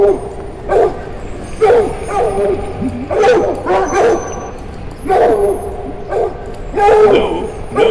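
In the horror game There's Something in the Ice, dogs bark and whimper over and over, a run of fairly loud yips and whiny, wavering barks in irregular bursts, with a faint steady tone in the background.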